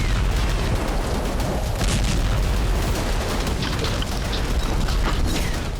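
Rumbling blasts and roaring fire from Israeli bombing in the Syrian city of Homs. A loud, continuous low roar holds with repeated bursts throughout, and no voices are present.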